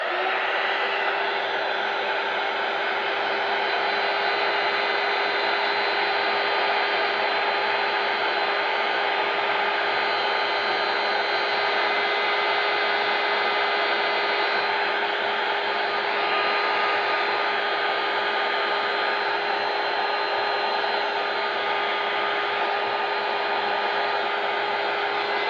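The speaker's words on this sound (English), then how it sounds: "I'm going to use my dryer and it's a bit noisy." A hair dryer runs steadily and loudly for the whole stretch, drying a Swellegant metal coating, with a constant whooshing airflow and a faint motor whine and no talk over it.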